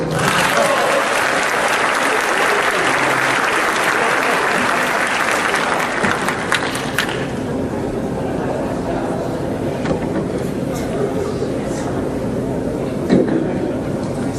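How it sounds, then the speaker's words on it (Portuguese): Audience bursts into loud, dense applause after a demonstration of smashing paving stones, the clapping strongest at first and then thinning into scattered claps that fade toward the end. "Palmas, gente."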